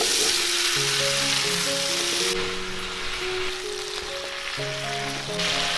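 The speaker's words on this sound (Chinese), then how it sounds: "锅里面先加入1勺猪油，先把姜粒跟蒜放下来炒香，接着加入所有配菜" Ginger, garlic and mixed vegetables stir-fry in lard in a wok, a loud, dense sizzle with spattering crackles throughout, while a melodic tune plays steadily underneath.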